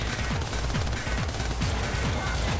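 Rapid automatic gunfire from the co-op shooter Syndicate, loud and close: a steady, fast stream of punchy shots with no talk over it.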